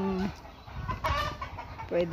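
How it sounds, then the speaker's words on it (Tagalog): Nearby chickens cluck in short throaty bursts at the start and end, with low shuffling and background noise in between. "Mga imported na manok."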